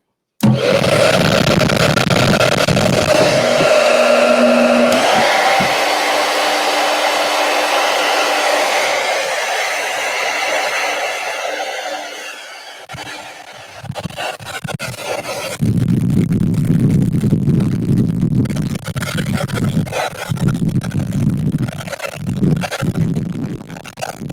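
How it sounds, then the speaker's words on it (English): A hair dryer roars loudly and steadily for about thirteen seconds, then continues at a lower, fluctuating level with brief interruptions, as if moved around. "I am going to hit this with a blow dryer again."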